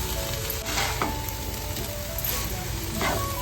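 Vegetables sizzle and are stirred in a hot pan after the tempering, with a steady close frying hiss and a few soft scraping strokes of the spoon throughout, no voices.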